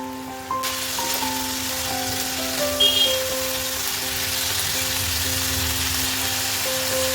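Chicken pieces, cut fairly large, fry in a pan with a steady, close broadband sizzle and crackle; constant hum tones run underneath throughout.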